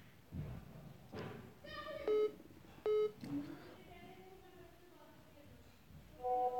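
Telephone dialing tones: several short, clear beeps spaced irregularly, mixed with soft thumps and a few spoken words, fairly close and moderately loud.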